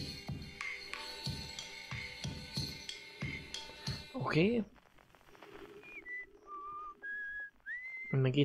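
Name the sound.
whistling sound source heard in Outer Wilds video game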